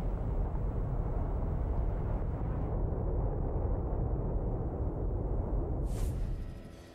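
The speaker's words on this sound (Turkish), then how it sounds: "Bir saatten kısa süre sonra meydana gelen dikey patlama ise göğe daha fazla kül püskürttü." Volcanic eruption of Mount St. Helens, heard as a dense, continuous low roar and rumble that holds steady at full strength for several seconds, then fades near the end.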